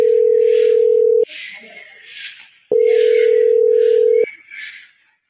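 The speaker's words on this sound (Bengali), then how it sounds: "আমি একটু ফোন দেই।" A telephone call rings out with two long, steady electronic tones separated by a pause, loud and close, while faint voices and rustling fill the gaps between the beeps.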